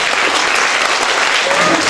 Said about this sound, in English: Clap like you mean it, man.